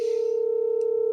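A steady electronic tone sounds from a phone speaker in a woodworking shop, a continuous pure hum with a faint high click near the end.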